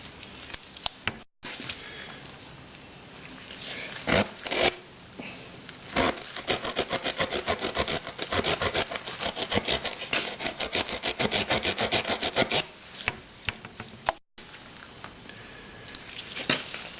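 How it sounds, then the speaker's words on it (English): Reaming tool working a puncture hole in a tyre to enlarge it, giving a long run of close, rapid rasping and scraping strokes, steady and fairly loud with brief pauses. "Might just make that hole a bit bigger, I think."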